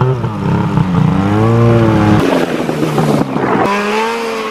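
A snowmobile carving a circle on a frozen lake, its engine droning steadily with a rising and falling pitch as it sweeps around, loud and close, shifting in tone partway through the turn.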